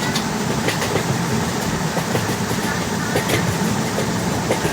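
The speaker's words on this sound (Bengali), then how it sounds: "ট্রেনটার স্পিড খুব তাড়াতাড়ি ধরে নিচ্ছে" A train picks up speed in the Indian Train Simulator game, a steady rumbling run with faint rhythmic clicks of wheels over rail joints.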